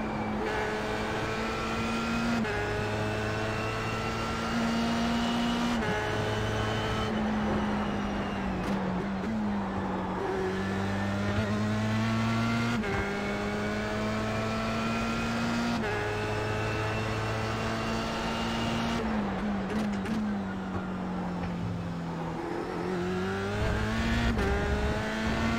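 A Formula 3 car at Imola in the iRacing sim screams through gears in a steady high-pitched engine drone, repeatedly climbing to the rev limiter and cutting back over upshifts and downshifts, loud and continuous with no talking.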